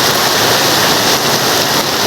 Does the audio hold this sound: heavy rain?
yes